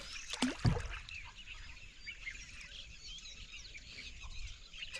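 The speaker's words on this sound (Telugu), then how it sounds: "పెద్ద పక్షులు అరుతున్నాయి." Large birds call from trees along the Krishna river, their cries fairly faint and distant over a steady outdoor wash of water and wind, with one sharp close knock early on.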